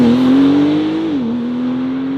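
A 2021 Porsche 992 Turbo S engine drones loud and close from inside the car as it drives, with its pitch climbing slightly, then dipping as the revs drop and settling into a steady cruise.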